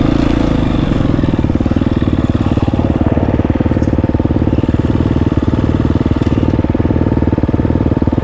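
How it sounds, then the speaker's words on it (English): A GasGas EX250F dirt bike engine runs steadily up close, with a loud, continuous buzzing drone and rapid firing pulses throughout and no speech over it. "The bike runs smoother, and it definitely doesn't have as much engine braking."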